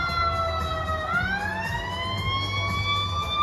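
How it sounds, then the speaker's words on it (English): An ambulance siren wails as it passes, its rising and falling tones sweeping steadily over low rumbling traffic noise, fairly loud and clear without talk. "you're going to let the ambulance ride past"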